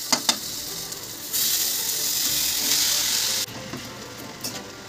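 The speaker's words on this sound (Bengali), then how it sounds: "এগুলো একটু ভালো করে নাড়াচাড়া করে নেব। এবার দিয়ে দেবো মোচাটা।" Spices and banana flower stirred in a frying pan for a hilsa head ghonto, opening with a few sharp clicks before a loud steady sizzle for about two seconds, then quieter stirring taps.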